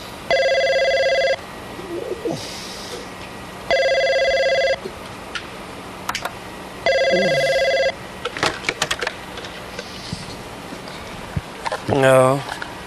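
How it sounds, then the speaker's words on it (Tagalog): A telephone bell rings in three long bursts with short gaps between them, each one loud and electronic. Brief sounds and a rising voice-like chirp follow near the end. "Telepono."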